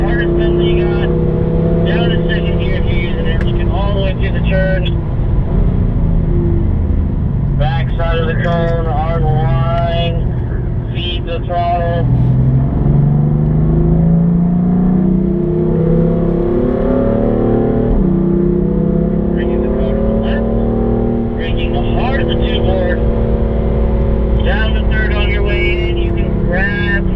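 Car engine accelerating on a race track, a loud, sustained engine drone whose pitch climbs and falls through gear changes as the throttle is fed on corner exit, continuous under an instructor's spoken commentary.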